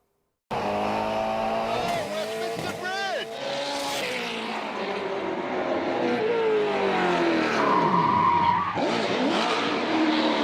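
Ken Block's race car drifts through the streets of London, its engine revving and rising in pitch with long tire squeals, loud and close, while voices talk over it throughout.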